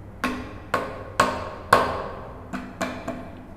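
A hammer drives a wooden wedge into the leg joint of a spindle short stool, seven sharp, evenly spaced knocks ringing close by, each with a short decaying tail.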